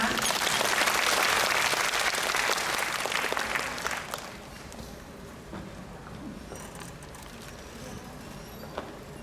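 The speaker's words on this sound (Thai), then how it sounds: "ขอเสียงปรบมือด้วยนะคะ" An audience at a birthday charity event breaks into loud, dense applause that fades after about four seconds into quieter room noise with murmuring voices.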